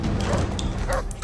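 A dog in The Incredible Hulk film gives a couple of short, close yips and barks, with a brief crash or smash under them.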